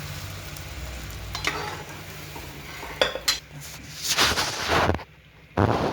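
A hot garlic tempering poured into cooked dal for dal phal sizzles and crackles in bursts against pot and spoon clatter, with a sharp loud flare near the end after a brief pause.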